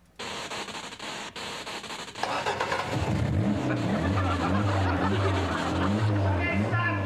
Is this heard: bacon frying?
no